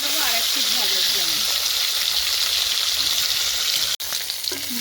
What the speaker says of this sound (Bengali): মাছ এক পিট করে ভাজা হয়ে গেছে, এবার উল্টে দেবো আর এক পিট ভাজার জন্য।